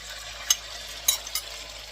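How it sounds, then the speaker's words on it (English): Beef frying in hot oil gives a steady, close sizzling hiss, punctuated by a few sharp pops and light stirring clicks. "we use hot oil to cook the protein first"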